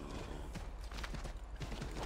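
Horse hooves clip-clop at a steady trotting pace in the video game Assassin's Creed 3 Remastered, fairly close and clear, over a constant background hum.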